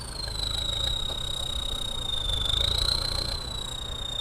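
A Kioti EX50 tractor engine runs steadily nearby, a low constant drone with a thin high whine on top and no speech.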